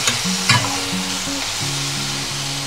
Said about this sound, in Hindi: तो यहाँ मशरूम को 2 से 3 मिनट तक भूनना है।